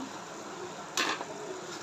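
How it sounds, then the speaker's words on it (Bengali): Langcha sweets fry in oil with a quiet, steady sizzle and one brief louder burst of spattering midway, close by and with no speech. "ল্যাংচাগুলো আমার ভাজা হয়ে গেছে আর একটু ভেজে নিব"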